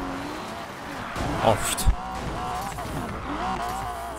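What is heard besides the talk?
Porsche car driving in video game Need for Speed Payback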